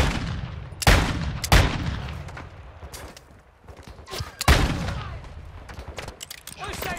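Shotgun blasts in Call of Duty Modern Warfare DMZ come as a few heavy, booming shots spaced seconds apart, close and loud, each trailing off before quieter scattered gunfire.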